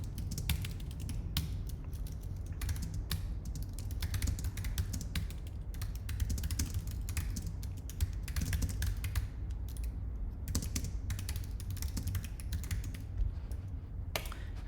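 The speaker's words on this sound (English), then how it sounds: "If I type in an excerpt here" Steady typing on a computer keyboard, dense quick keystrokes running throughout over a low background hum, close and moderately loud with no talking.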